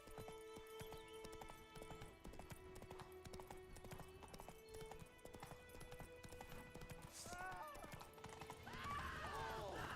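Roach, the horse in The Witcher 3, clip-clops steadily along at a close, even rhythm, and a brief whinny breaks through near the end.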